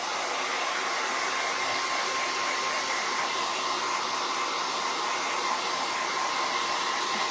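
A blow dryer runs steadily and loudly at close range for the whole stretch, drying homemade sunflower placemats, its even whooshing hum unbroken and heard without any talk.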